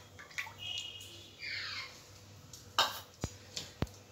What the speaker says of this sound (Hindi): रिफाइंड डाल रहे हैं,